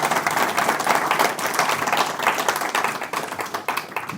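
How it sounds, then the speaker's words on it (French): Applause from a lecture audience after a talk, brisk clapping with distinct individual claps, loud at first and thinning slightly toward the end. "Allez, quelques petits applaudissements."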